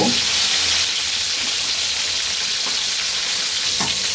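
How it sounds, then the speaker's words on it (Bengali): Pieces of rui fish fry in hot oil for a Bangladeshi fish and potato curry. A loud, dense, continuous sizzle sounds up close, with a few faint clinks beneath it. "দুই পাশে মোটামুটি একই রকমের ভাজা হয়ে গেছে"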